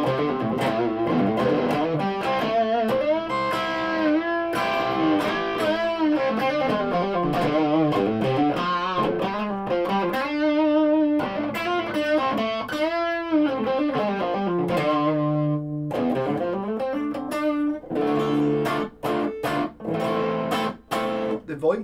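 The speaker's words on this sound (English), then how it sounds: "obviously I'm using extreme distortion because it's me" A heavily distorted Yamaha AEX520 electric guitar plays a long, fuzzy riff of sustained notes and bends, thick and saturated, closing with choppy staccato hits.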